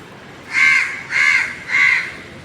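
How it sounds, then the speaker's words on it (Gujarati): Crows caw three times in an even rhythm outdoors near a home kitchen, each call loud, harsh and close, standing alone over quiet background hiss. "કાગડા આવી ગયા."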